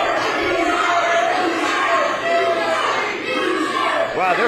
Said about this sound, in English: The crowd is telling Mantis that he's scared.